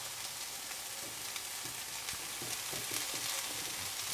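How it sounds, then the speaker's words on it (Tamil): Onions and tomato fry in oil as a tempering for a coconut-milk vegetable sodhi, a soft, steady sizzle with a few faint stirring knocks, fairly quiet throughout. "இப்போ சைட்லேயே தக்காளியும் சேர்த்து போட்டுடலாம்"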